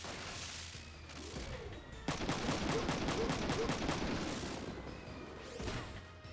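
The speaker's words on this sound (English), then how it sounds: "Actually, shoot this guy a bunch." Video-game gunfire as a player shoots an enemy on foot: rapid bursts of shots crackle loudly for a couple of seconds, then ease off, fairly close and with no talk over them.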